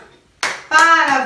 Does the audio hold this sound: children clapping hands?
yes